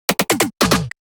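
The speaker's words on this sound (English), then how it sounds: "A drum sequence," A dubstep drum sequence plays as a tight burst of about five loud, punchy electronic hits packed into one second, with a brief tick at the end and no voices.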